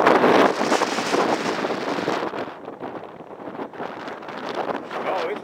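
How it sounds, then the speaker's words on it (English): Strong gusts of wind blow outdoors across an open field, roaring and buffeting the microphone loudly, easing and swelling again over a few seconds. "Feel that wind?"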